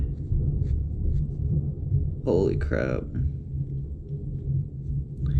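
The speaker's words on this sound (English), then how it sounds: "you have to have heard that, that lightning or thunder" A low, continuous rumble of thunder from a lightning storm rolls beneath the clip, and a person briefly exclaims in the middle.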